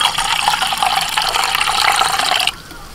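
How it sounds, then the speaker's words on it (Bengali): Cold water streams into freshly squeezed pomegranate juice in a steady, bright splashing pour lasting a couple of seconds, then cuts off abruptly, leaving a quiet room. "এর মধ্যে একটু ঠান্ডা জল দিয়ে দিচ্ছি"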